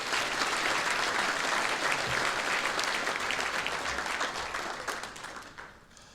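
Applause for the JEGS All-Star team members at an NHRA North Central Division awards ceremony, a dense, sustained crowd clapping that holds steady for several seconds and then gradually fades out.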